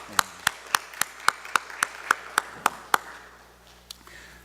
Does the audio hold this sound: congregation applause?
yes